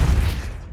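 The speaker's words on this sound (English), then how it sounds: "Depulso." The Depulso spell is cast in Hogwarts Legacy, giving a short, loud, low-heavy whoosh-burst that fades quickly.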